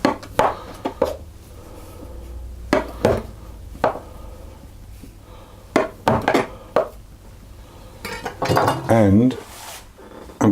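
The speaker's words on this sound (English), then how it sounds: "I'm going to place those onto a baking tray as well, like that, and press them down." Danish pastry pieces set down one by one on a baking tray, giving several sharp clinks and taps of metal and dishware at an uneven pace, close and fairly loud, with a voice briefly speaking near the end.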